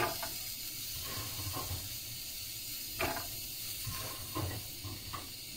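Chopped onions and olive oil hiss and crackle in a hot pan, a steady broad sizzle with a few sharper spits and pops, close and fairly quiet, with no talking.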